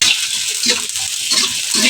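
Chopped okra frying in a pan, a steady, close sizzle with soft stirring scrapes recurring every half second or so, no voices over it.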